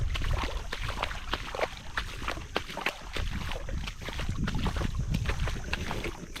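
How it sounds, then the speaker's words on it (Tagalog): Strong wind buffets the microphone in a constant roar outdoors on the water, with faint sloshing and creaking underneath. "Ayan, ang lakas ng hangin."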